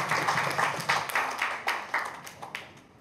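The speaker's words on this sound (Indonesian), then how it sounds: "Kita tepuk tangan terlebih dahulu" A small audience claps at a teachers' school event at SMA Batik 1 Surakarta, producing moderately faint, scattered applause of quick overlapping claps that gradually thins out and fades over three seconds.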